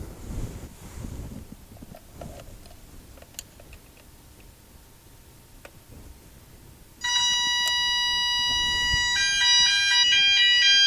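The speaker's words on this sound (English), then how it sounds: "once the alarm starts going off" A shrill electronic fire alarm suddenly starts blaring after a quiet stretch of room noise, loud and continuous with a pulsing tone.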